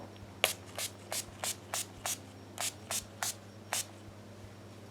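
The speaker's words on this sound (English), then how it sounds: "I'm just gonna give this a spray all over my face." About ten short hissing bursts of makeup setting spray onto a face in a steady rhythm, close and fairly quiet, with near silence between them.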